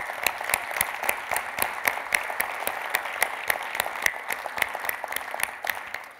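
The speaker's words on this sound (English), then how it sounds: "So a round of applause for yourselves." Steady applause from a room full of people, a continuous patter of many hands clapping at an even level throughout.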